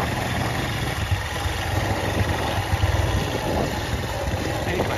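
A motorcycle engine runs outdoors while the bike is out on a ride, its steady drone largely buried under constant wind buffeting.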